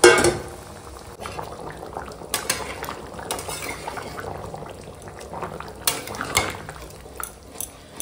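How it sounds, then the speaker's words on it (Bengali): Chicken curry with potatoes bubbles in a pot while a utensil clinks and scrapes against the metal in scattered sharp knocks, the simmer continuing steadily underneath without any talking. "মাংসটা এখন ফুটছে"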